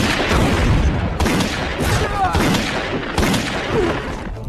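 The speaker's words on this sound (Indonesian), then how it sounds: "baku tembak pun tak bisa dihindari lagi" Gunfire crackles through a gangster film shootout in bursts of rapid shots and booms, loud and dense with few gaps, layered with a busy soundtrack.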